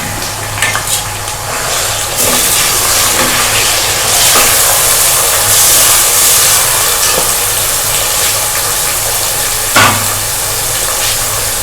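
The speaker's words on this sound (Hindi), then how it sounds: "अब इसमें मैं ये फ्राई होने के लिए डाल रही हूँ।" Chicken keema tipped into light-browned onions in a pan sizzles steadily and loudly, with occasional stirring scrapes over the continuous frying hiss and no voices.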